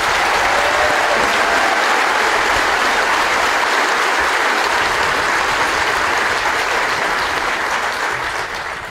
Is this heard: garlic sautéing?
no